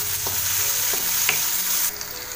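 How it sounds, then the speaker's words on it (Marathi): Cumin seeds sizzle steadily in hot oil in a kadai for a spiced tempering, a continuous crackling hiss with a few sharp pops and the occasional clink of a stirring spoon, heard close and alone. "जिरं सगळं लाल करून घ्यायचं व्यवस्थित कढईमध्ये फक्त मी फोडणी देणार आहे"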